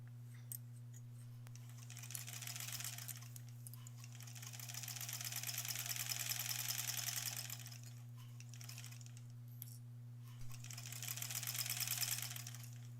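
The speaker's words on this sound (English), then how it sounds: "let's back to the sewing machine here. So this is our last seam on this guy" A sewing machine whirs in rapid stitching bursts while sewing a seam joining quilt blocks, starting and stopping several times, over a constant low electrical hum.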